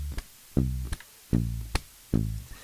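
Short, punchy palm-muted bass notes from a song's bassline plucked one at a time, about four thumps with a deep, quickly damped tone and light string clicks between.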